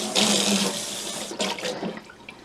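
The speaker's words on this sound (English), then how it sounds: "I'm going to rinse this pan off." Tap water runs and splashes as an air fryer pan is rinsed under a faucet, a steady close rush that breaks off briefly and resumes with changing splatter.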